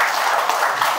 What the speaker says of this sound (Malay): Kita berikan tepukan sekali lagi kepada semua.